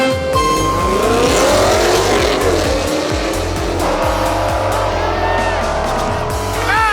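Car with an aftermarket intake and exhaust launching hard at a drag strip, engine roaring loud and close through several rising gear pulls while tires squeal, with brief voices under the noise.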